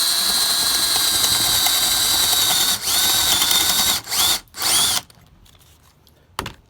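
A power drill whines steadily at high speed while drilling a deck brace, briefly dipping twice before stopping; after it cuts out, quiet handling noises and a short final burst.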